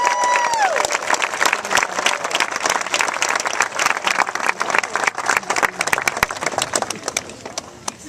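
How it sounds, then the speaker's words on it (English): Audience applause for graduating fifth graders at an elementary school graduation, sharp clustered hand claps rising into sustained clapping with some crowd noise, a brief voice at the start. "why don't we give a big round of applause to our graduating"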